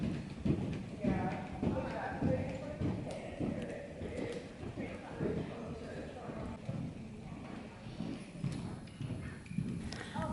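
A horse cantering over a jump with its rider; rhythmic hoof clip-clops and thuds run steadily throughout at close range, with a voice speaking over them.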